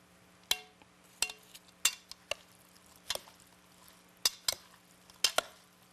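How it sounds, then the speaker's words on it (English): Cranberry salad being stirred in a bowl, with a series of sharp, irregular clinks and scrapes of a utensil against the bowl over soft wet mixing, close and quiet with no talk. "Okay, let's mix that all up."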